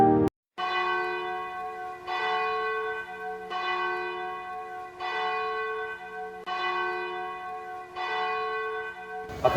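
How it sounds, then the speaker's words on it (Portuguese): Church bell in Santos, on the coast of Baixada Santista, tolling a fire alarm code. Six loud, ringing strokes at a steady, evenly spaced rhythm, each one humming on until the next. "Através de um código de badaladas, se sabia o local de incêndio."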